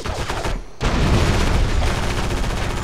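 Rapid, continuous gunfire from shaking guns in the PS2 game Area 51, a dense loud barrage that starts after a brief lull and keeps up steadily.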